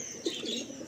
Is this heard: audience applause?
no